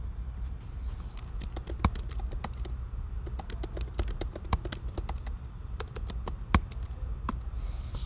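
Typing on a computer keyboard while adding text in Photoshop, with quick irregular key clicks in bursts and short pauses, close and clear, and a few louder taps standing out.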